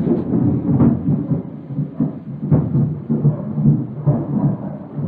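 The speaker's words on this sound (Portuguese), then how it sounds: "Deu um relâmpago doido aqui." Thunder rumbling after a lightning strike, a loud, continuous low roll with several swelling crashes over five seconds, heard alone with no voices.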